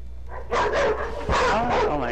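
Dogs bark in an online game, several quick yips and barks in short bursts, close and fairly loud, under players talking.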